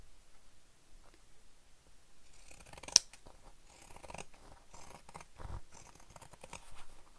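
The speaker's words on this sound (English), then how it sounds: "I'm going to use my pinking shears. We're going to trim the seam allowance." Pinking shears cut through the fabric seam allowance of a crossbody bag, giving quiet, irregular crunchy snips close by, with one sharp click partway through and soft handling noises between cuts.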